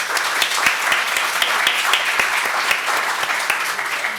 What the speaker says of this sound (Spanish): Por favor, démosle un aplauso a la profesora.